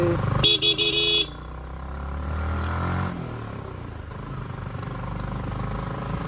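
Car horns honk in a stacked burst of loud tones near the start of a Darjeeling traffic jam, then give way to steady engine rumble and road noise with a faint motorcycle passing.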